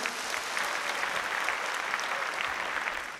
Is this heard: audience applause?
yes